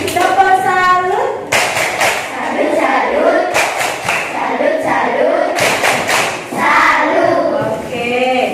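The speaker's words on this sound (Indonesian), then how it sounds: "Tepuk salut dulu buat Nuri. Tepuk salut." Schoolchildren perform the 'tepuk salut' routine, a group clapping game: loud, close voices chant together in bursts, with rhythmic claps and thuds mixed into the shouting.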